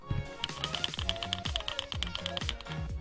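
Rapid, close clacking keystrokes on a large, heavy metal custom mechanical keyboard, each press sharp with a full, thick resonant body, typed in a steady quick rhythm with no voices.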